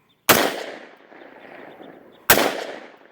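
Two sharp, loud firearm shots about two seconds apart, each with a long echoing decay outdoors on a winter range; more spaced single shots than a rapid burst.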